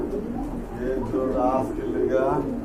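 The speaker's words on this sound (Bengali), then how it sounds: "ডাকটা ডাকটা কিন্তু চমৎকার আরও অনেক ডাকে কবুতরগুলো কিন্তু নার্ভাস" Pigeons at a market sale cooing in throaty rolling calls, close and clear, with someone talking over them.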